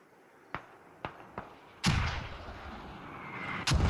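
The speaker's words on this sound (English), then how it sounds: "They're dropping mortars over there," Mortars fire in a competitive tactical shooter video game match: three sharp, distant thumps spaced about half a second apart, followed by a heavier, rumbling blast and another loud boom near the end.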